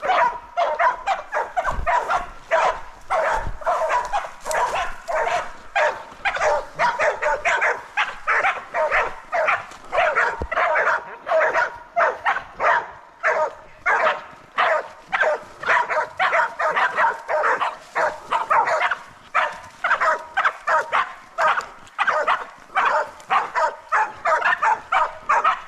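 Hunting dogs bark at night in a rapid, continuous stream of loud, close yaps and yips, several dogs overlapping for the whole stretch.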